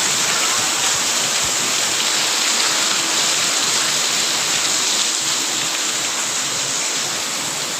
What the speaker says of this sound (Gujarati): ફૂલ વરસાદ ચાલુ છે હજી.